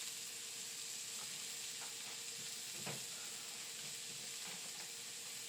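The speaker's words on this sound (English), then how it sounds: "Hear that sizzle, baby." Steady crackling sizzle of a pork sausage patty frying in a hot pan, continuous and close, with a few faint clicks and stirring sounds.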